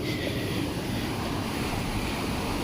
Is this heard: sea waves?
yes